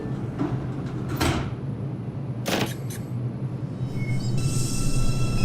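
R142 subway train doors on a New York line in a simulated OpenBVE ride slide shut in two loud bursts over steady rumble, followed by a rising hum as the train sits ready.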